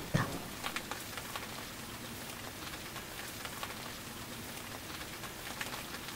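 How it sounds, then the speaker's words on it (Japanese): Light, intermittent rain patters steadily on a signboard on a windy night, a soft continuous crackle of drops with no voices. "降り見降らずの雨がパラパラと看板をたたいて通った"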